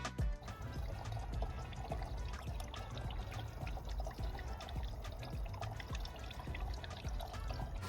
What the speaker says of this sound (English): then fill up the radiator